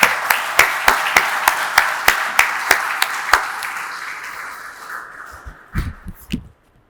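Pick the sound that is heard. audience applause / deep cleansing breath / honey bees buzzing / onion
audience applause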